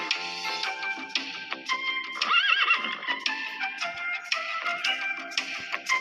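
Horses in a children's educational video game neigh and whinny repeatedly over a steady clip-clop of hooves, loud and close, with no talk.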